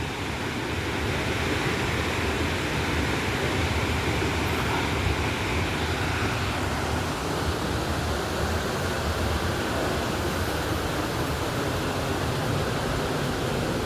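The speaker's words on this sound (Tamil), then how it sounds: "அருவி விழுவது உங்களுக்கு தெரியும் என்று நம்புகிறேன்" A waterfall beside a dangerous path gives a dense, unbroken rushing roar that holds steady at an even level from start to finish, with no voices.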